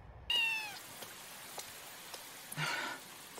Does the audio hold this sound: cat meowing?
yes